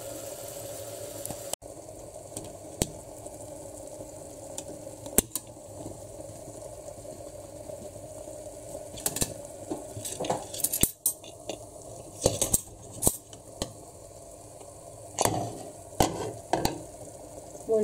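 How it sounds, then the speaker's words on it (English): Spiced chickpeas cooking in a clay pot while being stirred, a low bubbling simmer broken by intermittent scraping and clacking stir strokes that grow more frequent toward the end, with no voices. "And then we will mix this one into the boiled chickpeas and cook for some time."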